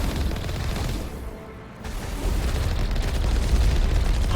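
Gunfire and explosions from the Mako armored vehicle being shot in the video game Mass Effect Legendary Edition: loud, continuous blasts and crackling booms, briefly dipping before a heavier barrage.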